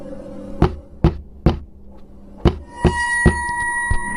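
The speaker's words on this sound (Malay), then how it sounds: "Terdengar bunyi ketukan, seolah-olah keranda sedang diketuk dari dalam." Four loud, sharp knocks at uneven intervals on a hollow wooden coffin, followed by a couple more knocks against a rising eerie tonal drone.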